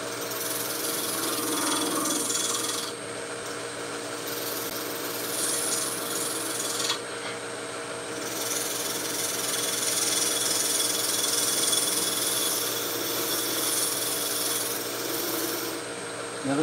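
A woodturning tool cuts into spinning burl wood on a lathe, giving a steady, close rasping scrape that runs almost without a break. It stops briefly twice, then keeps going at the same loud level with no talk.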